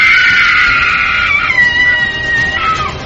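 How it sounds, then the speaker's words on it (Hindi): A long, high-pitched shriek carries through a dramatized horror story, loud and sustained, wavering in pitch before trailing off. "बुरी तरह से चीखी"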